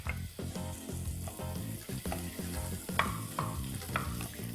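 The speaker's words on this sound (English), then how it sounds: "Now into that, I'm going to add my sliced onion." Sliced onion frying in vegetable oil with ginger garlic paste for a lamb chilli, a steady close sizzle broken by repeated spoon scrapes and stirring knocks against the pan throughout.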